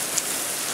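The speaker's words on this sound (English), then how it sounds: "now that it's raining" Rain falls steadily during a storm, a brief, even, soft hiss of drops on surfaces with no voices.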